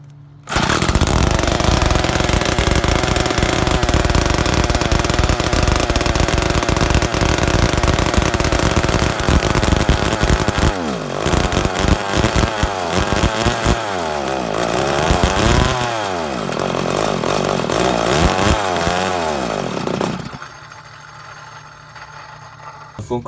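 A chainsaw engine fitted with an AliExpress performance tuning kit and a makeshift bicycle inner-tube part runs loud and close, a harsh buzzing roar that revs up and down in uneven bursts before dropping to a rough idle.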